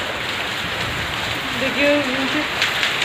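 Steady rain falling in a village in the evening, a constant wash of patter with faint voice-like tones partway through.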